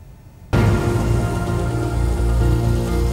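Unseasonal March rain in North India begins abruptly and then pours steadily as a loud, dense, continuous hiss of rainfall on surfaces, with no voices.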